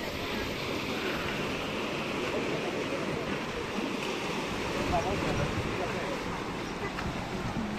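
Sea surf at an Italian beach on a hot summer day makes a steady, dense, close wash of noise with no distinct breaks, much like wind.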